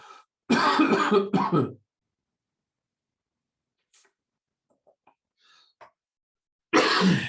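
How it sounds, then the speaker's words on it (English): Two bursts of harsh, close coughing from a lingering post-COVID cough, one at the start and one at the end, separated by near silence with faint small noises. "Still got that cough of that COVID."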